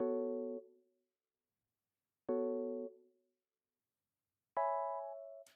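Three electric piano chords from the Lounge Lizard plugin on the Read One preset, each struck cleanly and left to ring and fade, spaced a couple of seconds apart, with the last voiced higher and brighter.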